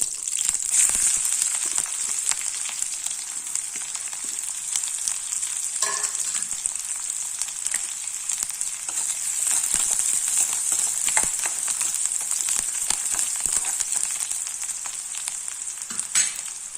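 Mustard seeds, curry leaves and onion frying in hot oil for a home-style tomato kuzhambu, with a constant close sizzle and occasional stirring scrapes and crackles.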